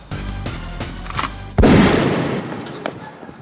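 Gunfire in a Vietnamese-language comedy film scene set in Bolsa: after a stretch of background music, a loud sudden burst of shots and booms erupts near and close, then rings out and fades, with no talk.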